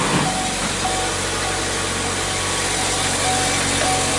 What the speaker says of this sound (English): We got the engine running